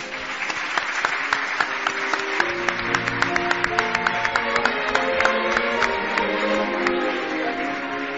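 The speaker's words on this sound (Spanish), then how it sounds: "Un aplauso, por favor, para Joaquín de Diego." Studio audience applause for Joaquín de Diego, steady dense clapping from a crowd at even loudness throughout, with no voices over it.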